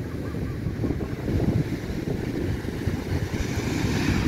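Huge ocean waves crash at Sununga beach in Ubatuba, a continuous loud roaring surf with rolling low rumble and heavy wind buffeting, swelling slightly in the middle and holding steady to the end.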